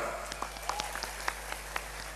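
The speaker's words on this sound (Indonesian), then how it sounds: "saya tepuk tangan dulu dong" Scattered hand claps from an audience at a large Islamic religious gathering, a dozen or so sharp claps spread unevenly over a steady low hum, fairly faint and distant with no talking.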